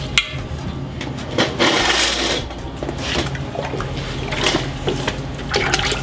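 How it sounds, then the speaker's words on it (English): Liquid ceramic glaze pours and splashes steadily into a giant pot, with some clinking and sloshing, fairly close and continuous, no talking. "I think I'm just gonna hold it like this and pour."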